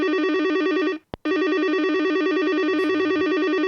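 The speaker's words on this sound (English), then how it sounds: "Phone's ringing." An electronic telephone ringer trills loudly and steadily at close range, a warbling tone that breaks off once for a brief gap before resuming, with no voices over it.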